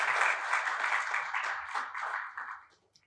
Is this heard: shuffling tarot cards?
no